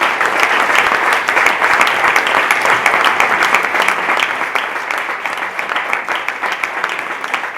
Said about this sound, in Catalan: un aplaudiment ben fort pel Ramon Manet i pel Jordi Fàbregas